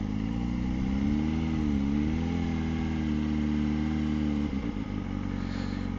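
A Suzuki GSR400 motorcycle engine hums steadily and close up as it rolls slowly into a parking lot in Singapore, with a continuous low drone and slight changes in pitch.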